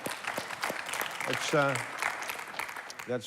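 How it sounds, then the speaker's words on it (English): Applause from an audience rattles on steadily throughout, with a voice speaking over the clapping. "clap so they can hear it at home"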